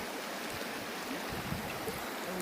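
A large river in the Siberian wilderness flows past in a continuous, even rushing wash of water, moderately loud and steady with no voices.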